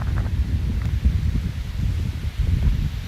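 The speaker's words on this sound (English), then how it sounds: "This breeze is insane. Like these gusts. I shouldn't even call it a breeze. The gust of wind." Strong gusts of wind buffet a microphone outdoors beside a railway at CP Arcadia, a continuous low rumbling roar with uneven surges and flutter, loud and close, with no talking.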